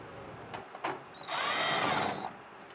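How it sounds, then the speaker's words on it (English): A power drill whirs in one sustained burst of about a second, backing out 10mm screws from the rear fender flare of a 2002-2008 Dodge Ram 1500, after a few faint clicks and taps. "Remove these 10mm screws from our fender flare here."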